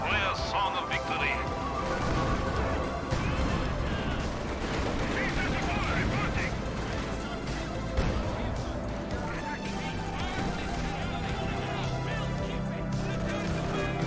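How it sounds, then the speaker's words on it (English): Soviet guns firing in the Company of Heroes 2 strategy game, with a dense battle of rapid gunshots, machine-gun bursts and heavier artillery crashes running continuously and loud, mixed with game voices. "The guns of the Soviet Union play a song of victory."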